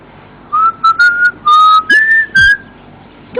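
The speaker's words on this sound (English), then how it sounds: "how about you whistle for him happy birthday?" Pet parrot Tippy whistles the Happy Birthday melody in clear, bright tonal notes, several short phrases rising and falling, close and fairly loud with no talking.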